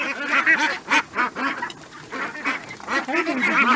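Repeated honks and squawky calls from a baby goose held up close, loud and uneven in bursts, with a few short gaps between calls and no speech.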